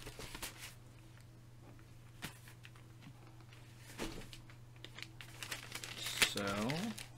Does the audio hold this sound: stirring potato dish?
no